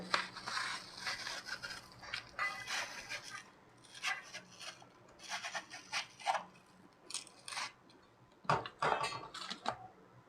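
Knife work on watermelon slices being cut into small pieces with the seeds separated, a series of close scraping, rubbing cuts and taps against a board or plate in uneven bursts, with no voices.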